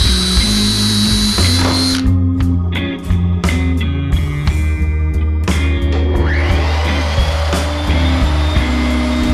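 A router fitted with a 1/8 inch bit cuts a slot through a wooden cutting board template, a loud high whine broken by several sharp bursts as the bit bites into the wood, up close and without speech.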